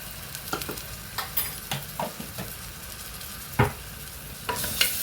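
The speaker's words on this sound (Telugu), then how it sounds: "ఇది పచ్చివాసన పోయేంత వరకు కొంచెం వేసుకుందామండి." Freshly ground ginger-garlic paste frying in a pan and being stirred with a utensil. A quiet sizzle runs throughout, broken by several sharp scraping clicks of the utensil against the pan.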